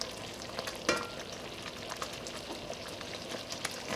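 Carrot cake jam at a hard boil in a pot on the stove gives a steady, dense bubbling and sizzling texture with occasional louder pops, fairly quiet and with no talk.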